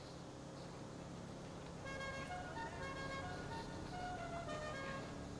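A melodic musical car horn on a lowrider in GTA Online plays a rising and falling run of tones over a low, steady vehicle rumble, moderately loud and fairly close.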